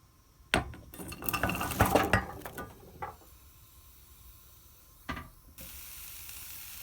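Vegetables for a mirepoix sizzle as they are added to melted butter in a pan on the stove, bursts of crackling hiss with clattering of utensils, then a steadier soft sizzle near the end.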